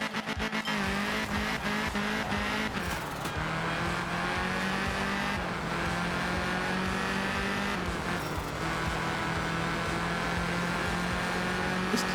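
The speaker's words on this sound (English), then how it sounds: "This car does make a very nice noise" A car engine pulls hard and revs up through several gear changes, its pitch climbing and dropping at each shift, loud and close throughout with no talking.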